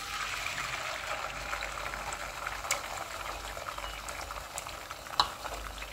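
A free-range egg omelet mixture sizzles in a concave Teflon pan over a very low flame, a soft continuous crackle and hiss with a few faint clicks, heard alone.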